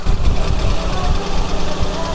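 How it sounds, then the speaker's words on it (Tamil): A used car's engine idles at a dealership, giving a loud, steady low rumble close to the microphone, while someone speaks over it. "இன்ஜின் ஸ்டார்ட் பண்ணி ஆயிடுச்சு, வண்டி தெளிவாக இருக்குங்க, இன்ஜினும் பக்காவாக இருக்குது"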